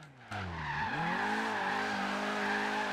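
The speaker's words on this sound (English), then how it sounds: "It drifts! It drifts! It drifts!" Volvo 242 Turbo drifting in Forza Horizon 3, a loud, sustained tire squeal with a rising then steady engine drone running continuously for several seconds, close and unbroken, with no talk over it.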